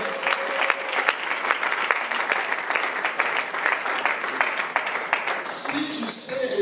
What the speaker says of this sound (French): Est-ce qu'on peut acclamer très fort pour eux?